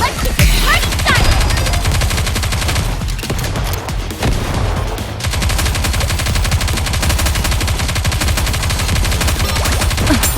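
Relentless machine-gun fire from the game Goddess of Victory: Nikke, loud and continuous rapid bursts with a brief lull near the middle before the shooting resumes at full intensity.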